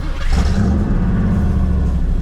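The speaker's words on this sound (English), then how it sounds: "I'm driving the Showtime Merc" Engine of a cheap Mercedes daily driver dubbed the Showtime Merc cruising at night, a steady low rumbling drone that swells slightly at the start and stays constant from inside the cabin.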